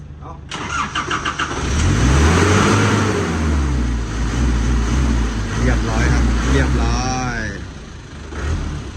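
Red-cap Nissan Big-M pickup engine starts and revs through rising and falling sweeps, loud and close, with voices talking over it.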